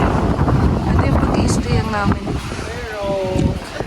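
Strong, cold wind high on Mount Pulag buffets the microphone in a steady roar while a person talks over it.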